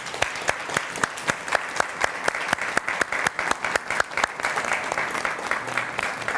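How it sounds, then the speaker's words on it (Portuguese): Audience at a religious event claps in a steady, rhythmic applause with sharp distinct claps, fairly close and loud, with crowd murmur underneath. "E uma salva de palmas para eles."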